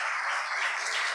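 Dinner guests at a city employee and volunteer recognition event applaud a jazz band, a brief burst of dense, even clapping heard close and continuous.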